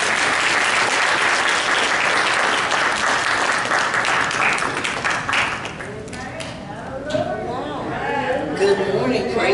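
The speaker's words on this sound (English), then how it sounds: "would you receive her with a hand clap" A friendly church congregation at a Sunday in-person worship service claps to welcome an elder to the front, loud sustained applause that thins into scattered claps and murmuring voices after about six seconds.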